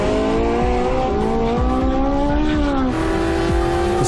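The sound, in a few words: Porsche 918 Spyder driving in Sport Hybrid mode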